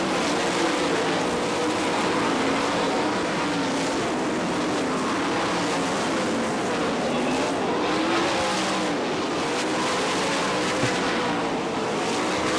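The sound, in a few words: sprint race cars racing on a dirt track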